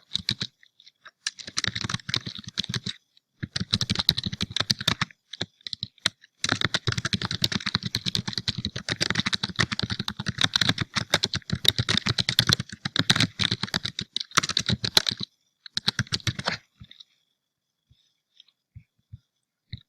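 Text is typed on a computer keyboard in quick bursts of close clicking keystrokes, with short pauses between runs, before the typing stops and the room goes nearly silent.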